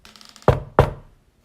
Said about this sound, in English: knocked on my door